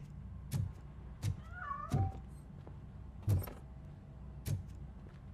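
A cat in the video game RoboCop: Rogue City meows several times, short separated calls with one drawn-out wavering meow, fairly quiet against a low background hum.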